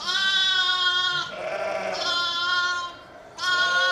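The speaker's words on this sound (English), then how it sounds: "That lamb's just shouting a bit more than I would like though" A newborn lamb bleats loudly and close by, with one long cry, a second strained call and the start of a third. Each is high and wavering, with short quieter gaps between them.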